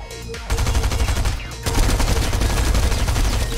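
Rapid bursts of video game gunfire in Fortnite rattle continuously, loud and dense like automatic weapons, with a brief break before the shooting resumes.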